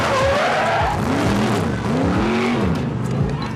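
A fire department drill team truck racing in a competition run, its engine roaring close and loud while tires squeal and skid in long wavering screeches throughout, with no talk.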